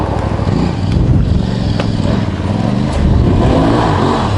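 A 2022 Aprilia Tuareg 660 adventure motorcycle at full throttle on an off-road surface in off-road mode, its engine a loud, steady roar throughout, with faint voices in the background.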